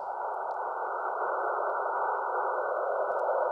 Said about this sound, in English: this is what data sounds like when it's fairly wide band. Just it sounds a lot like noise.